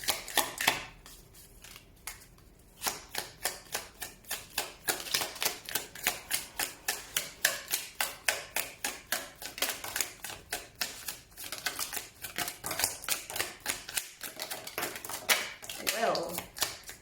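Tarot cards are shuffled by hand in quick, steady riffling flicks that repeat closely for most of the time, soft and near, with a brief gap and rustle toward the end.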